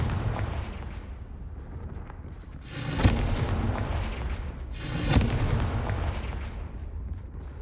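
Two booming explosive blasts from the Confringo spell in the Hogwarts Legacy video game, each a loud sharp burst that rumbles and fades, heard over a steady background roar with no speech.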